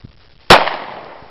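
One sharp 9mm handgun shot fired at clay targets outdoors, a loud close crack with a brief decaying tail and no talking.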